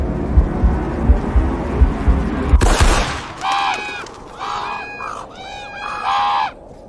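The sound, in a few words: birds and crows flapping away in panic, sound design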